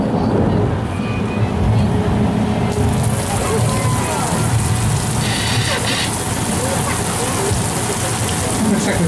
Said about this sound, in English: Looks like we've got some rain going on out there.